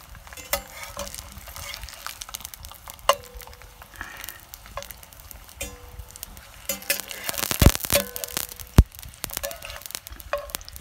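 Lard sizzles and crackles in a pan at the start of making tacos, a low steady frying hiss punctuated by sharp spatula scrapes and clinks, with a couple of louder knocks near the end.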